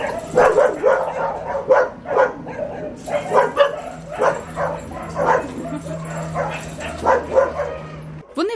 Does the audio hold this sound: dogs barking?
yes